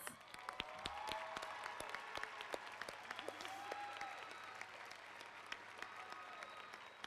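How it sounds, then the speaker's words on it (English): An audience at a high school graduation applauds standing students, a broad, steady crowd clapping in a large hall with sharp individual claps poking through, fairly faint and distant. "Let's give them a round of applause"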